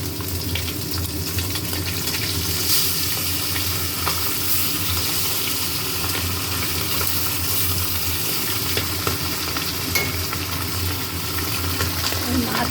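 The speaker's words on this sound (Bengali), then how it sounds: "মাছ ভাজা হচ্ছে।" Fish frying in hot oil gives a steady, dense sizzle and crackle that carries on unbroken for the whole stretch, close and fairly loud, with occasional faint clinks of stirring and no talk.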